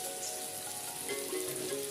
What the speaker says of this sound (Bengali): আলুটাকে লাল লাল করে ভেজে নিচ্ছি